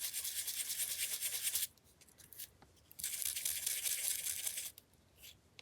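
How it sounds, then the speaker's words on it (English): A handheld sander working a small stem, two bursts of harsh, raspy abrasive grinding separated by short pauses, close and fairly quiet. "Sanded the little stem right off."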